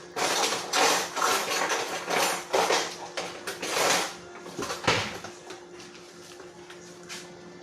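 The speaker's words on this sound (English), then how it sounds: "Let me get a spoon real quick." Metal spoon and cutlery clinking and rattling as a kitchen drawer is rummaged through, a run of close, irregular clatters and knocks with one sharper clunk near the end, while cooking enmoladas at home.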